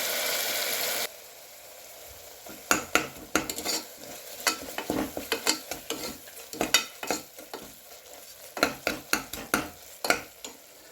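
Black-eyed peas with tomato and spices sizzle in a pan while a spoon stirs them, scraping and clacking in quick irregular bursts over a low frying hiss, with no talking.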